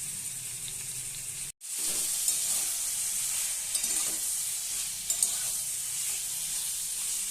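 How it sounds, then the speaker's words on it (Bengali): Onion, tomato and green chilli fry in oil in a wok with panch phoron and black cumin, giving a steady, close sizzle that cuts out for a moment early on, then resumes evenly. "কড়াতে আমি তেল দিয়ে দিয়েছি আর পেঁয়াজ টমেটো লঙ্কাও ছেড়ে দিয়েছি"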